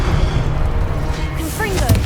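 A Confringo blasting spell in Hogwarts Legacy, heard as a sustained low rumbling roar with a few whistling, swooping tones layered on top, loud and continuous.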